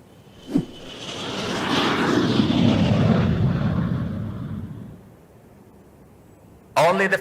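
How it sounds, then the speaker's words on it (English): Airplane engine in an animated cartoon: a roaring jet-like whoosh swells up, holds loudly for a few seconds and fades away, followed by a short burst of voices at the end. "We need to send a plane for them."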